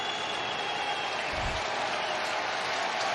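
A baseball crowd at a Yankees–Phillies game cheers and applauds to urge on the pitcher, a steady distant roar with a broad wash of noise throughout and a brief low thump partway through.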